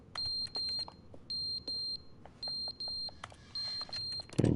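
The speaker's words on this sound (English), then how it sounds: "The fuck is beeping?" Electronic alarm in the video game The Stanley Parable: a high, piercing tone beeping in regular bursts of about half a second, repeating steadily with short pauses, ending in a louder thump.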